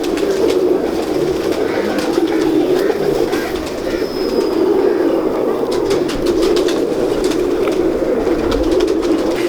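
Several pigeons coo in a dense, continuous low chorus, loud and near, as a steady backdrop with no talk over it.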